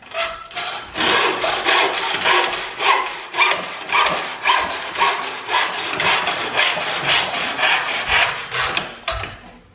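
A hand saw cuts steadily through wood clamped in place, a loud close rasping stroke repeating in an even back-and-forth rhythm throughout, with no voices.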